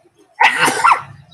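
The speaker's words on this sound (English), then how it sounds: "you gonna sneeze?" A single loud, close sneeze bursts out after a moment of quiet, followed by a low murmur of room sound.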